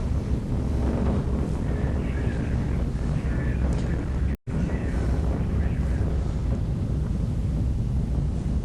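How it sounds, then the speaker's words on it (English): A Proton rocket's engines roar during its launch carrying the Hot Bird 8 satellite, a loud, continuous rumbling wash that briefly cuts out midway. "Vehicle engine operation is stable."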